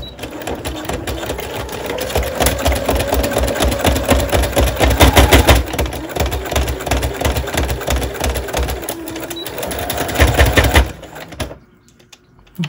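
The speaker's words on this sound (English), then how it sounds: "I have a walking foot on this sewing machine" A sewing machine fitted with a walking foot stitches through several layers of paper in a fast, rattling run of needle strokes that pauses briefly and resumes before stopping, loud and close.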